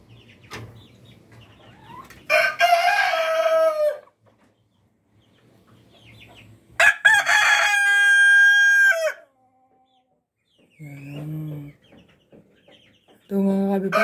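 A Rhode Island rooster on a breeder farm crows loudly twice in long drawn-out calls, with softer clucks and short squawks in between and quiet stretches, a voice talking faintly early on.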